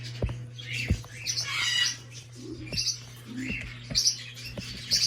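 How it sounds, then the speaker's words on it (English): Small finches at a bird farm chirping and tweeting, quick high bursts scattered over a steady low hum, with short squawky calls close by. "They're finches, I think."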